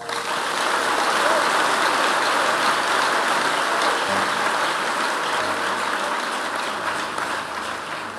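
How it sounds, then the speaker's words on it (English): A church congregation at a revival service claps for Jesus in a long sustained wave, a loud dense roar of many hands with a low hum beneath and no pause. "Clap for Jesus."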